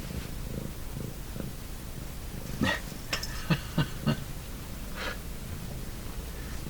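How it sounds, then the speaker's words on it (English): A domestic cat purrs softly and steadily up close, with a few faint snuffles and clicks breaking through the low, continuous rumble; no talking. "Very nice cat."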